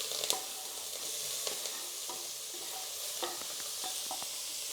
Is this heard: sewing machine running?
no